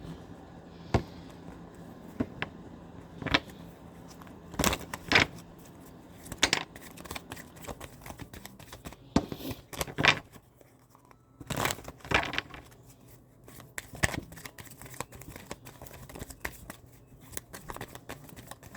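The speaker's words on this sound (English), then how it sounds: "I'm going to check my purple cards." Oracle cards being shuffled, with irregular soft riffles and taps at close range, quiet and intermittent with pauses between bursts.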